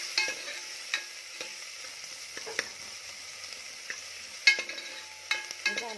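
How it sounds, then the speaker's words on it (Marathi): Finely chopped onion with a little salt sautéing in a pan, a soft, low sizzle broken by sharp intermittent scrapes and taps of a spoon stirring, with no one speaking. "बारीक चिरलेला कांदा घालायचा आहे. कांदा छान परतवून घ्यायचा आहे."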